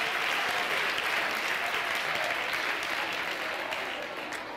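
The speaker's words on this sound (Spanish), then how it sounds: "Give yourself a massive hand clap." A large audience at an ENAP 2017 education talk applauds, a dense, loud and sustained clapping that fades slightly toward the end.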